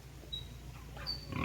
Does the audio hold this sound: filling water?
no